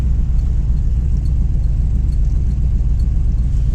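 An LS-swapped third-generation car with an automatic transmission idles at around 900 rpm during a test drive, a steady, loud low rumble with an even throb, close and continuous with no talk.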